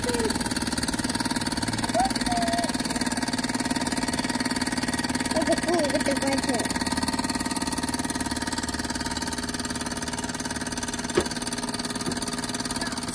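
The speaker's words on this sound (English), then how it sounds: "A steam engine from the 70s still works." A 1970s Mamod model steam engine running, a steady mechanical whirring and chuffing drone with faint tonal whistles, continuous and close throughout.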